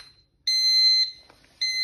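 A PLC-controlled mobile robot sounds its proximity warning: two loud, clear, high electronic beeps, the first held about half a second and the second cut off, with near silence between.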